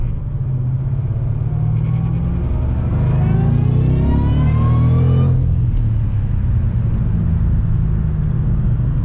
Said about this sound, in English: Get on this main road, I'll do a quick second gear pull